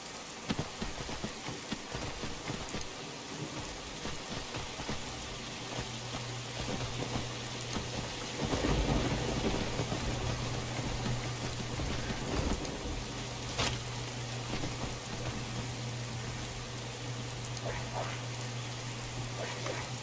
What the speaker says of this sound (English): everyone's trying to run inside because it's raining and storming.